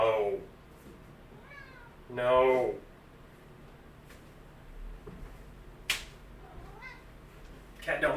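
A house cat meows several times, with drawn-out, rising and falling cries spaced apart, one loud and close. A person speaks briefly between the cries, and a sharp click sounds once.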